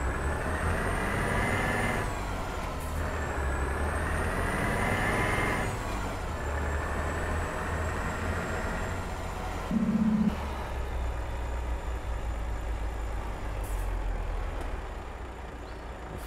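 A heavy truck in Euro Truck Simulator 2, a Volvo FH rig with nine axles, rumbles at low speed with a steady engine drone and a short burst of air-brake hiss, no talk over it.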